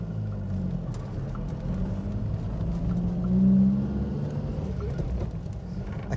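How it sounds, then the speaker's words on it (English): A Mk1 Ford Fiesta's 1.1-litre engine rumbles steadily with a low, hollow exhaust note, rising briefly as it pulls away, heard from inside or close by. "It's got that Mk1 Fiesta sound, doesn't it? It's that kind of hollow exhaust."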